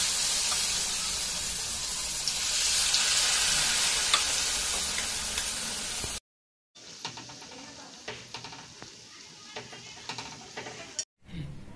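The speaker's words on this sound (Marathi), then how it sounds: "तर तेल आपलं गरम झालेलं आहे, त्याच्यात आपल्याला हे सोडायचे आहे" Poppy-seed vadas dropped into hot oil give a steady, loud sizzle. After a brief break, softer frying follows with scattered small clinks.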